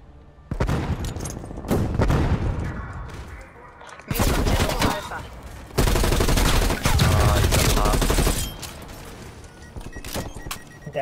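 Bursts of automatic gunfire in Call of Duty Black Ops Cold War, several loud volleys of rapid shots mixed with game noise, with quieter gaps between the bursts.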